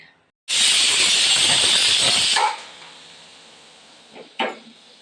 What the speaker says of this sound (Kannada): ಮುಚ್ಚಳ ಮುಚ್ಚಿ ಚಲೋ ಮುಚ್ಚಿ ಒಂದು ವಿಷಲ್ ಕೂಗಕ್ಕೆ ಬಿಡಬೇಕು